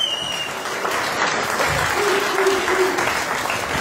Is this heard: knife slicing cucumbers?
no